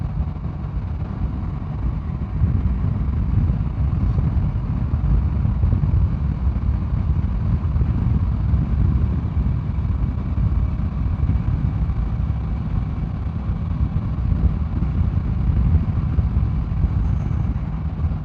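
A motorcycle at riding speed gives a steady, loud low engine drone mixed with rumbling wind noise, continuous throughout with no talking.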